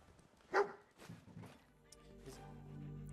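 Dogmeat, the companion dog in a video game, gives one sharp bark followed by softer canine noises over a low game background.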